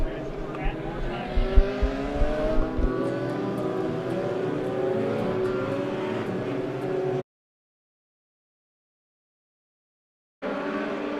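Race cars roar at full throttle around the Monett Motor Speedway during weekly championship racing, a dense, loud engine drone with a few sharp bursts near the start, then silence and a brief return of the engine noise.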